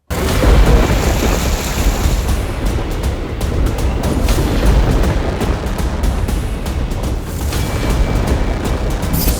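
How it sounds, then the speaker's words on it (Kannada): Heavy pre-monsoon rain lashing Bengaluru at night, a loud dense roar with deep rumbling booms of thunder rolling through, continuous throughout with no talking. "ಮುಂಗಾರು ಪೂರ್ವ ಮಳೆಗೆ ಕರುನಾಡು ಮುಳುಗೇಳ್ತಾ ಇದೆ"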